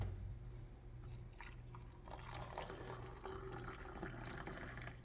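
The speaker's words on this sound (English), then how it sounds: "Now we'll put some hot water in there." Hot water poured into a pot of chili made from a packaged menu meal, a soft steady liquid trickle and splash running continuously at close range over a faint background hum.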